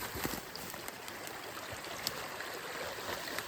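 A mountain stream in the Carpathians flows nearby with a soft, steady burbling rush and small splashes throughout, with nothing else heard.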